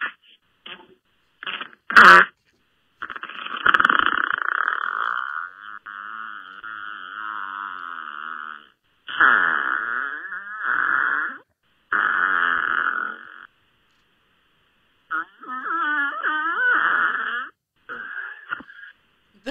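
A recorded fart played back through a phone: several separate wet, rumbling and squeaky bursts of varying length, spaced by short silences, fairly clear and close.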